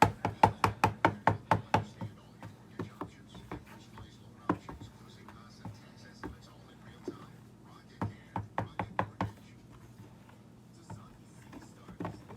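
Cocoyam being chopped with a knife on a board for fufu: quick bursts of sharp, close chops in runs of five or six, separated by quieter stretches of scattered single cuts and faint background hum.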